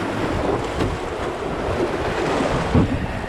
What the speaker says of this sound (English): first rapids we're gonna run on the SHABUMENI River